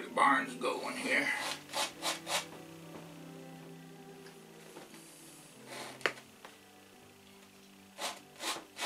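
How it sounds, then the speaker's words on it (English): Paint scraped out of an area on a painting makes soft, rhythmic rubbing strokes in short bursts separated by quiet stretches, close and faint. "Just want to scrape out where the barn's going here."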